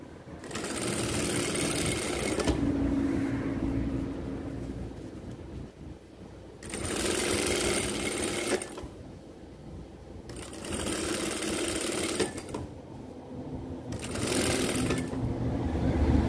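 A sewing machine stitches along a skirt hem, following an existing seam, running in steady bursts of a few seconds each with short pauses between, close and continuous while it runs.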